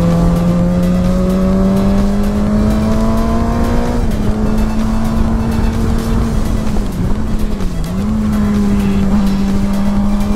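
Suzuki GSX-R 750 motorcycle ridden on a mountain road, its engine droning steadily with a rising pitch, then briefly dipping at gear changes before holding a high, even whine close to the microphone, with no talking.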